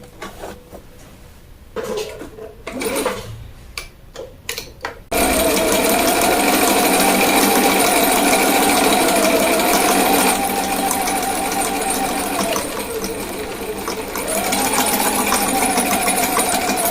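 A sewing machine runs a long, steady stitch along a boning channel on a corset bodice. It comes in loud and continuous after a few seconds of quieter handling and clicks, with slight changes in motor pitch.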